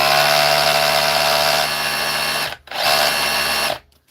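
A power tool running in chisel mode buzzes loudly and steadily, cuts out briefly, then runs again before stopping; no speech.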